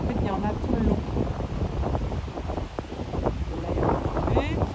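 Wind gusts buffet the microphone on a hilltop beside ramparts with towers, a loud, rough rumble, while people talk over it.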